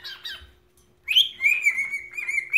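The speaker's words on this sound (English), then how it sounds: "Showing you the bird real quick." A pet bird calls in a short high chirp, then after a pause breaks into a longer run of clear, whistle-like calls. The calls are close and moderately loud, with nothing else heard.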